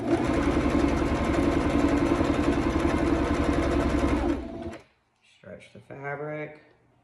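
A sewing machine runs loud and steady while stitching elastic onto the hem of a stretch dancewear skirt, then stops abruptly, followed by a brief voice speaking.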